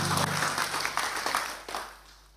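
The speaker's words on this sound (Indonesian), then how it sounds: "Tepuk tangan dong untuk Mas Didi" Applause for Mas Didi, a burst of many hands clapping together that is fairly close and full at first, then fades out over about two seconds.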